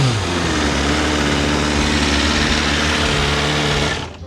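A BMW M 1000 R motorcycle engine revs under throttle, a loud, steady close-up roar with strong harmonics held for about four seconds before easing off at the end.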